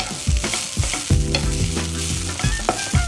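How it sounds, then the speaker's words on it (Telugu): Ingredients for a mint and coriander chutney frying in a pan, loud crackling sizzle with repeated clanking scrapes of a spoon stirring at an uneven rhythm, no voices. "ఓకే, ఇలా కాస్త ఫ్రై చేసుకున్నాం కదా"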